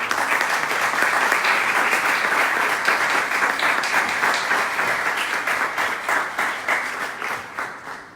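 An audience welcomes a guest speaker onto the stage with a warm round of applause, dense and loud clapping that holds steady for several seconds and then thins out into scattered individual claps as it fades.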